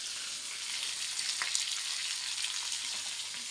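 Spices and cumin roast in a pan with a steady, even sizzling hiss. It holds at one level throughout, broken only by a faint stir near the middle.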